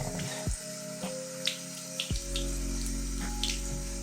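Tap water runs into a sink while a Digimon Vital Bracelet is wetted under the stream, a steady close splash with a few clicks and handling sounds, no speech.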